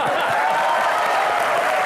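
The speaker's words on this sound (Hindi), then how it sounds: "तो एक बार फवाद के लिए जोरदार तालियां" Studio audience applause at a comedy talk show taping, a dense, steady wash of clapping held at even loudness for the full two seconds with no voices over it.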